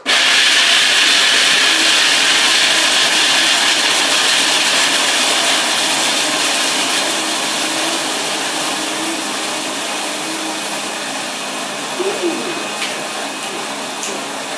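Hazelnuts, 1.5 cups, grinding in a food processor for cinnamon star dough, a steady loud whirring hiss that runs unbroken and eases slightly in level toward the end.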